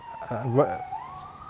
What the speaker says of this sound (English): you can hear the joys of the police and ambulances in the UK